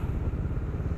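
A Bajaj Dominar 400 motorcycle runs steadily on an expressway, its engine giving a low, continuous throbbing drone with a rapid pulsing rhythm throughout, no voices present.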